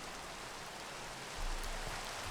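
Rain falling in the OmniFactory video game, a soft steady hiss of drops that swells slightly louder partway through, with no talking.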